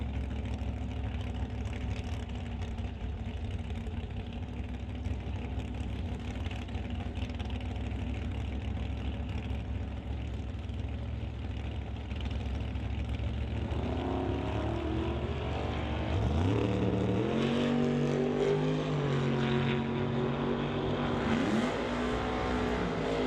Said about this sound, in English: Ryan Johnston brings up the Nasty Fish Racing Investors Group Corvette out at an 828 to race Sean Langley in the Mach 1 Hustler